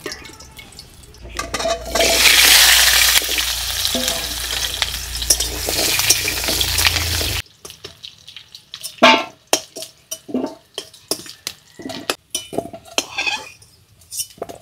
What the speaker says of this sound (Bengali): আলুটা ভেজে নেব, তার জন্য দিয়ে দিচ্ছি সর্ষের তেল